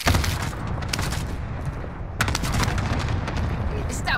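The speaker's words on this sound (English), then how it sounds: "Allied cluster strike inbound" Cluster strike explosions in the video game Call of Duty Black Ops Cold War Warzone: a dense, rumbling barrage of blasts that surges at the start, again around the middle, and near the end, with sustained booming in between.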